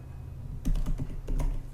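Fingers type a URL on a computer keyboard, a quick patter of soft key clicks in two short bursts, near and fairly quiet, with no speech.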